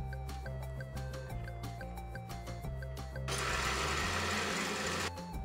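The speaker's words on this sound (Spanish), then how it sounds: "Vamos a licuar." A blender whirs loudly for about two seconds, blending a lemon pie filling of cream cheese, lemon zest and the juice of eight lemons. It starts partway through over a steady tonal background and then stops.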